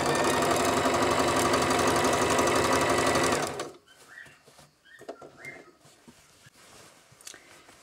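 A sewing machine stitches down the elastic flap on trousers being repaired, running loud and steady for about three and a half seconds before stopping, followed by faint handling noises and small clicks.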